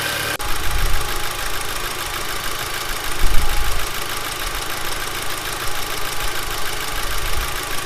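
Audi TT Mk2 (8J) engine with an aftermarket intake idling on a cold start, a steady, fairly loud mechanical drone with slight knocking texture and a brief swell partway through, no voices.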